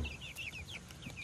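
Chickens in a coop with a white rooster, giving soft repeated clucks and chirpy calls across the short stretch, fairly close but quiet, with low rustling underneath.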